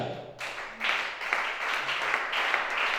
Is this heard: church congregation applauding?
yes